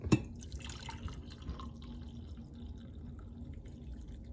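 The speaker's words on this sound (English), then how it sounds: "Just pouring my" Coffee is poured into a cup close by, a thin steady trickle of liquid that starts with a small knock and keeps running evenly throughout.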